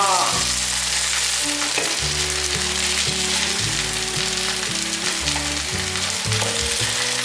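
Eggplant and king oyster mushroom patties pan-frying in oil, a steady close sizzle that holds without a break, with faint clinks of a utensil against the pan.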